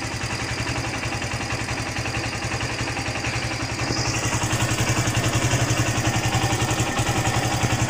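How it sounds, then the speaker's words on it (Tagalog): Motorcycle engine chugging steadily with a rhythmic mid-range thump on a slippery, muddy road in heavy rain, loud and close throughout. "Ayan ang motor."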